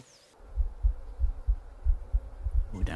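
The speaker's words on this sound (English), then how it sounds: "Oh, don't like the heartbeat." Heartbeat sound effect from the horror adventure game The Excavation of Hob's Barrow: steady, deep, thudding double beats repeating at a regular pulse, loud and alone after a brief quiet start, with a short rustle at the end.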